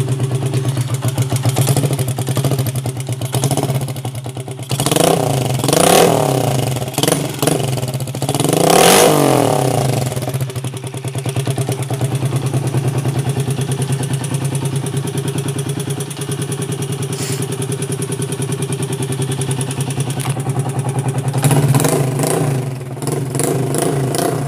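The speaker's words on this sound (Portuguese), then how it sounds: "na fazenda você pode acelerar de boa" A Yamaha TDM (tuday) motorcycle with a straight-pipe exhaust, just a bare pipe, revs hard on a farm, loud and close, with repeated throttle blips rising and falling over a steady rumbling idle.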